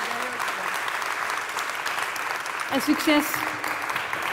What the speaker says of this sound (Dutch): Mag ik een luid applaus voor onze paneleden?